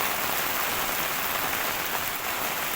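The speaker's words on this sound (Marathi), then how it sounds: "बराच वेळ झाला पाऊस चालू आहे" Heavy Kerala monsoon rain falls in an unbroken, even roar, a continuous wash of drops with nothing else audible.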